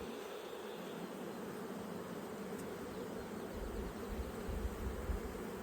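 Honeybees hum in a dense, continuous drone at an open hive during an inspection, steady and fairly faint, with no voices.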